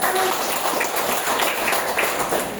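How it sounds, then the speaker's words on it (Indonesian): Dense, continuous applause from an audience fills the space, a steady wash of many hands clapping at once with no single claps standing out. "tepuk tangan dulu"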